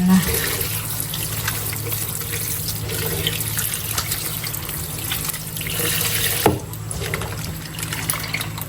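Grated salted santol worked by hand in a basin of water to rinse out the salt, giving steady sloshing and running-water sounds close up, with one brief knock near the end and someone talking throughout.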